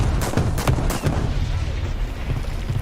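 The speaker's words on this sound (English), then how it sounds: "And you can see even the artillery has got a little bit of a sound rework as well." Artillery fire and explosions in the War Thunder video game, several heavy booming blasts in quick succession over a deep rumble, loud and close, with someone talking over them.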